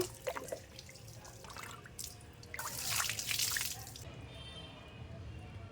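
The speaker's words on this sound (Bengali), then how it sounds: "উল্টো করে নিয়ে ভালো করে জলটা দিয়ে ভিজিয়ে নেব।" Water is poured over hair flipped upside down to wet it, a splashing gush that swells for a second or two amid softer dripping and trickling.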